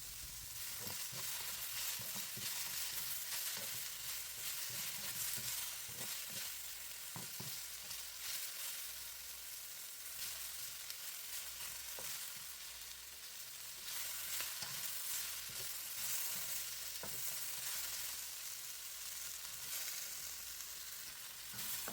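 Japchae vegetables frying in a pan, a constant bright sizzle with frequent irregular clacks and scrapes from mixing, close and steady throughout with no talking.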